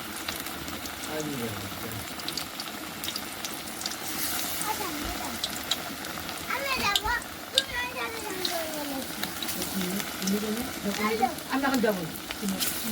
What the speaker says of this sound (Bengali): তো এই চপগুলো আমি একটা একটা করে ছেড়ে দেবো